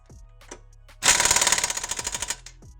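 An impact wrench hammers coilover bolts tight on a Hyundai Veloster, one loud burst of just over a second of rapid rattling blows up close. A few quieter clicks come before and after it.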